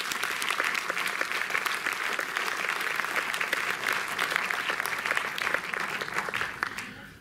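Steady audience applause fills a closing ceremony at a French film festival, dense and sustained, fading out at the very end.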